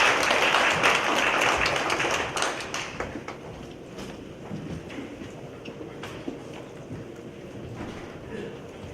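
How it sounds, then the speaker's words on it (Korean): An audience at a community conference welcomes the keynote speaker with applause, loud at first and then fading into scattered claps and room noise with a few sharp taps. "많은 박수로 맞이해주시기 바랍니다"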